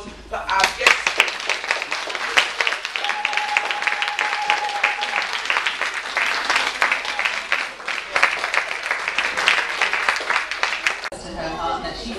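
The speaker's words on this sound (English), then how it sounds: "one serious round of applause for our guests" An audience at a Protect the Girl Child event breaks into a long, loud round of applause for the guests, dense clapping with some cheering that carries on steadily before cutting off near the end.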